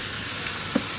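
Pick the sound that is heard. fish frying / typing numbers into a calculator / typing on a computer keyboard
fish frying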